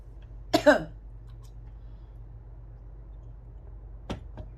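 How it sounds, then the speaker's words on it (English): A single short cough in a quiet room, followed a few seconds later by a faint sharp click. "I might need to stop my video because I need to cough"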